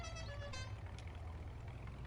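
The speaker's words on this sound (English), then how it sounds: "And of course, the horn." A small pickup truck's horn in a Farming Simulator game on a farm, one short tonal honk over a steady low engine hum.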